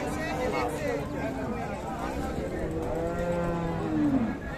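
A Friesian cow moos in long, drawn-out calls over a busy outdoor cattle market crowd in Dinajpur, Bangladesh, with people talking throughout and a louder bellow near the end.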